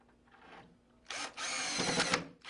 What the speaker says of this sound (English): grab your drill with your Phillips head bit and grab 4 number 8x2 screws, and we'll go ahead and screw those into place.